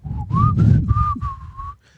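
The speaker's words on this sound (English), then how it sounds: "Start whistling, twiddling your thumbs." Someone whistles a short, bright tune of a few held notes, close by and clear.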